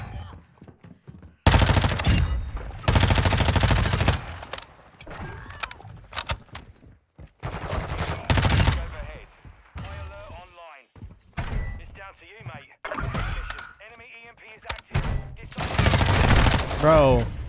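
MP5 gunfire in a first-person shooter video game comes in several loud bursts of rapid shots, mixed with people talking and other game sounds between the bursts.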